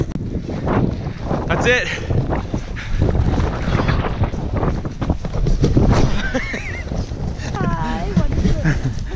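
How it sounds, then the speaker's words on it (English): Wind gusts through a snowy outdoor scene during a heavy snowstorm, a steady broadband rush with buffeting on the microphone, running under frequent nearby talk from adults and children throughout. "the wind makes it a little less fun"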